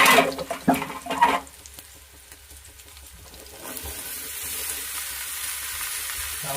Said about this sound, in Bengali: লাউটাকে আলুর সাথে ভালো করে কষে দিচ্ছি